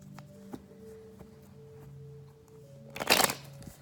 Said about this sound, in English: I'm going to do it again on camera just so that you can make sure that I'm shuffling.